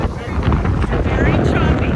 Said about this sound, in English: we're on the beach, and it's windy. Very windy,